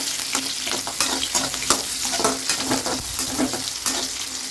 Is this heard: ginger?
yes